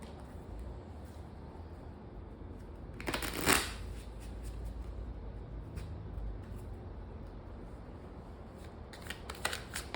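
A brief rapid riffle of tarot cards being shuffled, loud and near, then quiet handling noise and a few soft card snaps near the end.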